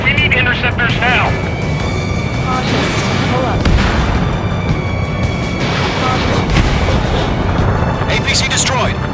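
In the Ace Combat 7 video game, an armored personnel carrier is blown up amid a dense, loud wash of booming explosions and roaring aircraft, with radio voices talking over the battle.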